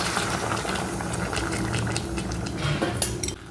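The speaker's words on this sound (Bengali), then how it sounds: "এবার আমি ফুটিয়ে নিয়ে রেখে দিয়েছিলাম সেই গরম জলটা আমার এবার দিয়ে দিচ্ছি এর মধ্যে" Hot boiled water is poured into a cooking pot of browned mutton with fat and unripe jackfruit, a steady splashing pour lasting a few seconds, with light clinks of the pot and utensils.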